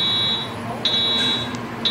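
Edwards EST 757 fire alarm speaker strobe sounding, a loud piercing electronic tone in repeated long pulses with short gaps, close and dominant over a low background hum.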